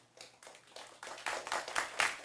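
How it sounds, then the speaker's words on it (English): Audience at a city council study session clapping briefly, scattered hand claps building into a soft, short burst of applause, fairly distant in the room. "No clapping, please."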